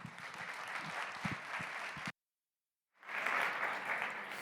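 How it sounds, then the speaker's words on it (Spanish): Applause from a conference audience greets a speaker at a security event, a dense steady clapping that cuts out abruptly, falls silent for nearly a second, then resumes just as full. "un fuerte aplauso, por favor"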